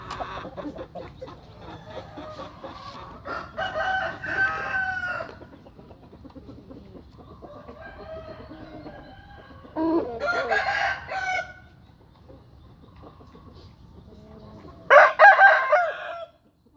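A newly arrived rooster crows loudly and close by, three drawn-out calls spread across the stretch, with quieter clucking and background farmyard noise between them.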